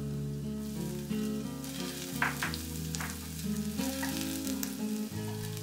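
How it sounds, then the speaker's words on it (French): Garlic, ginger and spring onion sizzling in a spoonful of chili oil in a pan over high heat, a steady dense crackle with occasional stirring scrapes, close and continuous with no voices. "Toujours avec la même casserole à feu vif, toujours une cuillère à soupe d'huile pimentée, y faire revenir le reste d'ail"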